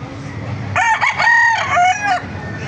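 A Sweater bloodline gamefowl rooster crows once, loud and close, a drawn-out cock-a-doodle-doo call that rises and then trails off against a low farmyard background.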